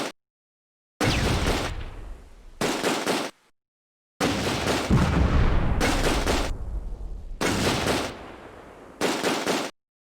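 Bursts of machine-gun fire and explosions from the Close Combat war game, loud rattling volleys in several separate bursts broken by short silences, one longer sustained barrage in the middle.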